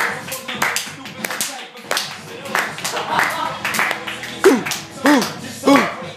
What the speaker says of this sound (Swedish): Publiken i extas.